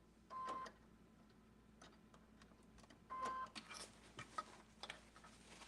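Two short bursts of a sewing machine top stitching, separated by quiet rustling and light clicks of fabric handling.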